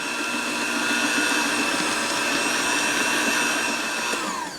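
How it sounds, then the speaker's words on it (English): An electric mixer runs steadily at low speed, beating cake frosting made with brown rice syrup in a bowl, giving a continuous loud whirring drone throughout. "then we're going to mix this at low speed, scraping down the sides as we go along"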